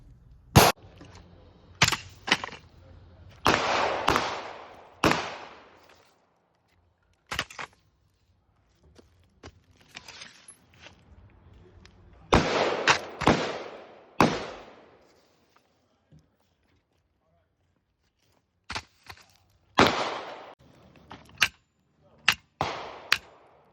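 Budget toy blaster shot after being caked with mud, sand and dirt in a torture test: sharp snapping pops in scattered bursts and single shots, close and loud against quiet gaps, with low voices between shots.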